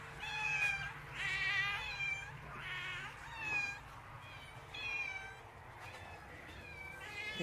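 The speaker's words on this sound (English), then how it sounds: "Am I to take it there are hungry cats here?" Several hungry cats meowing in turn, overlapping high cries rising and falling close by over a steady low background hum, with no talking.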